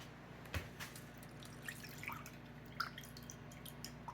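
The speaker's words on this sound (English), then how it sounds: "we're going to put this in our bowl, and I'm going to run it through a strainer." Lemon juice drips through a strainer into a bowl, making faint scattered droplet plinks over a quiet background hum.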